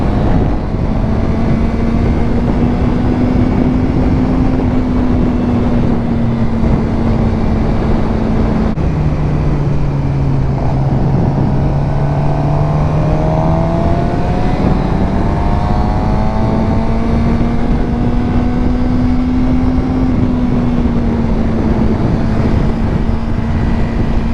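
A Suzuki GSXR 600 on a group ride alongside a Yamaha R6 and a Ducati, its engine a constant loud drone that dips and rises in pitch as it shifts, mixed with heavy wind rush, with no talking.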